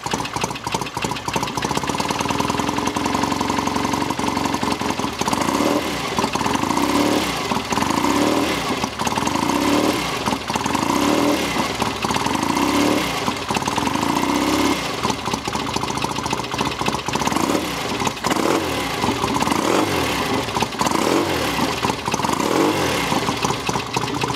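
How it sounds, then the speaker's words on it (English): A classic BSA motorcycle engine idles steadily with a loud, lumpy, rhythmic thump, running continuously throughout without any talking. "it's a lovely bike, and they have a lovely sound to them as well"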